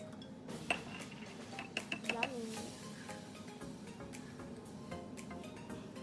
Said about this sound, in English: I'm going to take a tablespoon of almond butter and put it into our bowl, or I should say jar.